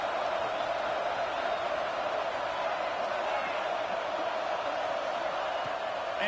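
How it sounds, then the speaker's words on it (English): Home stadium crowd in a football video game roaring in a constant, dense wash of cheering, loud and sustained throughout with no break. "how nice is it to have the home crowd going absolutely bananas"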